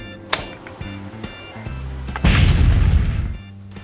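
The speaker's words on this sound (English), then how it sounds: "I'm hiding from the explosions" Explosions in a student short film: a sharp bang near the start, then a loud, sustained roaring blast with rumbling debris that lasts over a second and fades, over a steady low hum.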